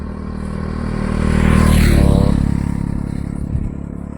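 A motorcycle passes close by on a mountain road on the long drive from Manali toward Ladakh, its engine rising loudly as it approaches, then fading and rattling away.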